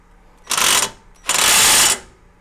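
A ratchet tightens the front hub during a QA1 coilover install on a 1986 Monte Carlo SS, making two loud, close bursts of rapid metallic clicking separated by a short pause.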